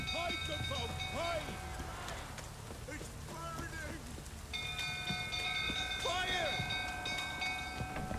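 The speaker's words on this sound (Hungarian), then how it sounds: "megérkezett a villamos, vagy nem tudom, annak szokott ilyen hangja lenni." A tram in The Witcher 3 video game rumbles in with humming motor tones and a rising, steady pitch, while a person talks intermittently over the mechanical drone.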